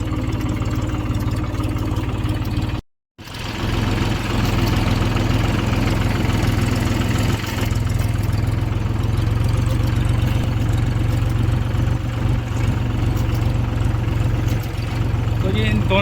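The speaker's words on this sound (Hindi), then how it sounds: "मैं जुताई कर रहा हूँ जी तीसरे के लो में, बिल्कुल स्लो रेस में।" A tractor engine ploughs a field in third low gear at slow revs, with a steady, loud, low chugging drone throughout and one brief dropout. Someone talks over it.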